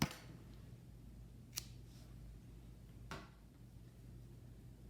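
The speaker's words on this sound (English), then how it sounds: "before I cinch it all the way, I'm going to cut my yarn" Scissors cut crochet yarn with two quick, quiet snips about a second and a half apart against a faint background hum.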